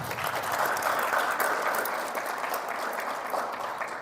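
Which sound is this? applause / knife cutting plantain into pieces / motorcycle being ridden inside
applause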